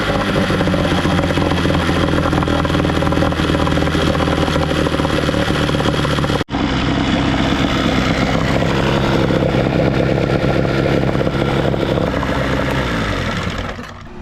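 An outboard boat motor running after a new thermostat and impeller were fitted, a loud steady engine drone throughout with a brief cut partway and a slight fade at the end.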